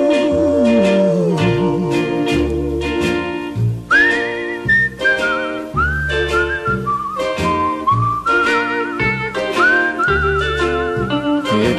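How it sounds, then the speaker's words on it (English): Whistling carries the melody of a song over a band accompaniment. The tune moves through bright, sustained notes and gliding pitches, with no singing heard. "It's a whistling tune for walking in the night."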